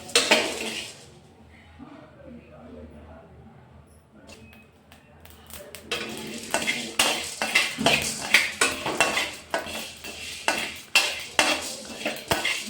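Pounded spices are fried for pepper chicken, starting with a quiet stretch before a spoon scrapes and clatters rhythmically against the pan, a soft sizzle beneath the repeated metallic strokes.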